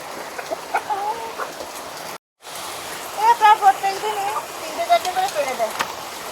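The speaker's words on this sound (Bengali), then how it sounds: "পাঁচটা মুরগি আছে মাঝে মুরগি পাঁচটা আছে" Five hens at a home clucking close by, with repeated short, bursty clucks and calls that grow busier in the second half, broken by a brief moment of silence.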